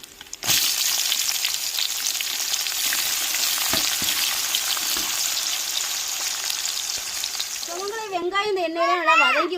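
Chopped onions sizzle loudly in hot oil in a pan while being stirred, a continuous close frying hiss, with a voice speaking over the last second or so.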